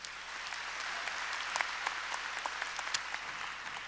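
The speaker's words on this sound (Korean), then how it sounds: "뜨겁게 박수로 환영하시기 바랍니다" Steady applause from a crowd welcoming missionaries at a church mission conference, a continuous wash of clapping with a few sharper claps standing out, sustained throughout.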